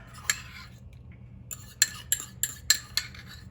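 A fork or utensil mashing banana in a bowl for chia seed pudding, heard as a series of about seven sharp clinks and taps spaced irregularly, close and fairly quiet.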